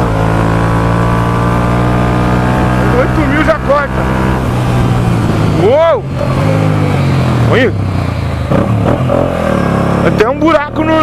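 Yamaha motorcycle engine running steadily while riding, a loud continuous drone with shifting pitch, under excited shouting and talk from the riders; the bike reportedly has a brake fault.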